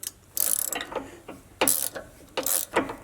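A ratchet wrench tightening a bolt during a Clayton Offroad 2.5-inch lift kit install on a Jeep JLU, giving quick bursts of close, crisp metallic clicking with short pauses between strokes.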